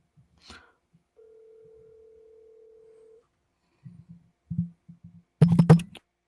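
During an outgoing phone call, a single steady ringing tone holds for about two seconds after a brief click. Muffled, low voice-like bursts from the line follow, ending in a louder crackly burst.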